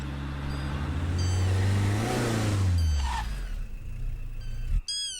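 A car engine revs and then slows with a falling note as the car pulls over to the roadside, fairly loud and close, and the sound cuts off abruptly near the end.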